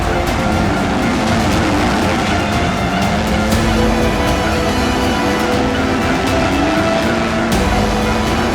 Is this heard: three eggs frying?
no